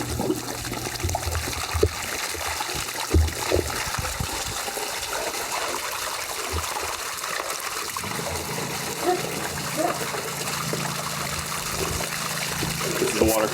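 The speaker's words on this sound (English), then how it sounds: "This is the water coming down from that" Water from a pool spa water feature spills down steadily into a backyard pool during an inspection in Cape Coral, Florida, a continuous nearby trickle and splash with faint talk beneath it.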